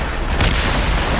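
Cannon fire during a naval battle in the video game Assassin's Creed Rogue: a loud, heavy boom with a broad rumbling wash that swells briefly and sustains for about a second, with no talking over it.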